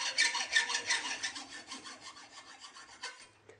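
A hand saw cuts a metal linear glide ball track to length, a quick rhythmic series of close, bright rasping strokes that gradually soften and slow to a stop.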